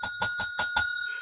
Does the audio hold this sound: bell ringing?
yes